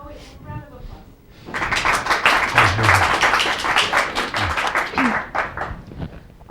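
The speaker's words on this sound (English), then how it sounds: "Oh, wait, round of applause." After a brief quiet lead-in with a voice, an audience at an evening event breaks into a round of applause that swells and gradually thins, with some voices mixed in.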